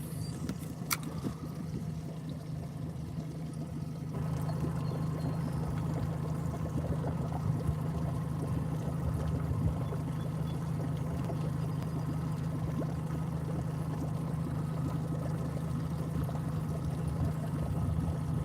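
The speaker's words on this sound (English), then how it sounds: "Does it sound like my bilge pump's on?" A bilge pump runs aboard a small fishing boat on an Ontario lake, giving a faint, steady low hum with a continuous trickle of water pouring out beneath it.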